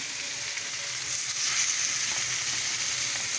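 Bell pepper and tomato frying in a pan, a continuous bright sizzle close by that swells a little louder partway through, steady and with no talking.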